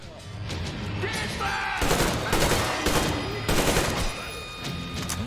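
Rapid bursts of gunfire hit an enemy in the Metro video game. The shots come loud and close in dense, repeated volleys over a steady noisy game background.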